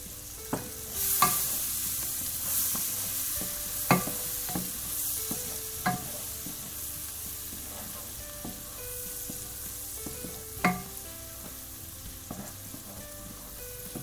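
Onions cook in browned butter in a pan, giving a continuous soft sizzle broken by repeated sharp clacks and scrapes from stirring at irregular intervals.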